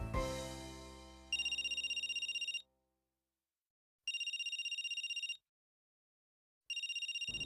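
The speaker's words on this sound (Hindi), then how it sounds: "कुछ देर बेल बजने के बाद फोन अपने आप कट गया" An electronic phone ringtone chimes in repeated bursts with pauses between them, clear and close, following a fading tone at the start.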